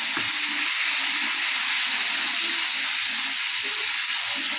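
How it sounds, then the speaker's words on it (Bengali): Food frying in hilsa fish oil in a pan, a dense continuous sizzle and hiss with a few soft stirring bumps underneath, close and steady, without voices. "এখানে অল্প একটু মাছের তেল আছে, এটাই তেলের মধ্যে দিয়ে একটু ভেজে নেব।"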